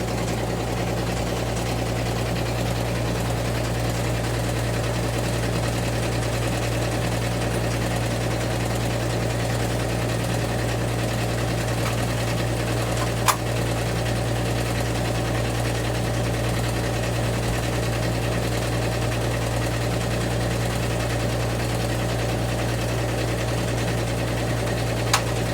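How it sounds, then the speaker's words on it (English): A Melco multi-head embroidery machine runs steadily, its needles chattering in a fast even rhythm over a constant low motor hum, with a single sharp tick midway and no talking. "just running certain embroidery heads with the specific colors that she swapped"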